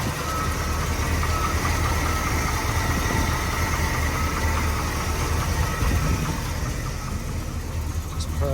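A 1986 Chevrolet C20 pickup engine idles steadily after a cold start, a continuous low rumble that stays even and close throughout, with no breaks or revving.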